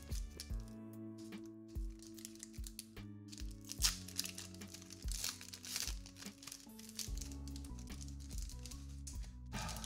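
Wrappers of Streets of New Capenna Magic card packs crinkle and tear close by in irregular bursts, while steady music plays underneath.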